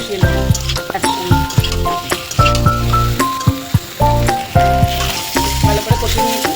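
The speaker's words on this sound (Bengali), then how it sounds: "এবার এর মধ্যে ভেজে রাখা ডিমগুলো এর মধ্যে দিয়ে দেবো আর ভালো করে কষিয়ে নেবো একসঙ্গে" Fried eggs are turned with turmeric and chili powder in a pan, loud close clatter and scraping of a utensil in rhythmic bursts over an ongoing sizzle, with no one talking.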